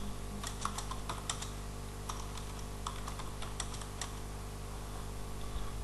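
Rapid computer keyboard typing in bursts of clustered key presses, close and fairly loud over a steady low background hum, with brief pauses between flurries and no talking.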